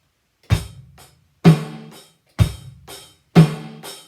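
A simple fill is played on a drum kit: four evenly spaced, loud, close strikes, each followed by a quicker, softer hit. The pattern forms a steady pulse with no talking.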